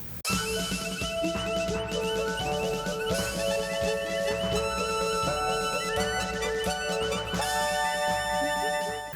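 Dense, full-sounding MIDI music played on a real vintage MIDI device, with layered sampled instruments, drums and sustained melody lines, playing continuously without any talking.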